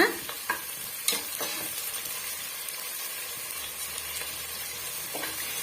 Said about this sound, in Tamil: நம்ம கட் பண்ணி வச்சிருக்க வெங்காயமும் இஞ்சி பூண்டு பேஸ்ட்டு கருவேப்பிலை இது மூணுமே சேர்த்துக்கலாம் சேர்த்துட்டு நல்லா வந்து வதக்கி விட்டுக்கலாங்க